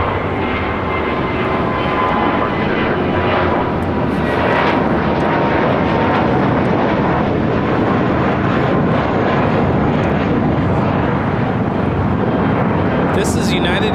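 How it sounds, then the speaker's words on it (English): A United Airlines A320 takes off at LAX, a loud steady jet roar rising and holding throughout, with people talking over it. "1395 taking off to Austin on an A320."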